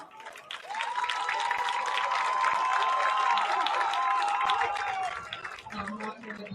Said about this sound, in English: Please give these seniors a big round of applause